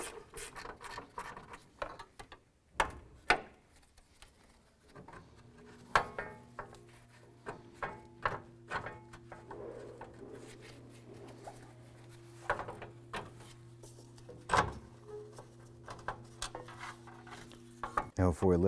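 Ratchet clicking as a bolt on the center beam of a 2001-2007 Ford Escape is loosened, quiet bursts of rapid pawl clicks and metallic knocks, with a faint steady hum in the background.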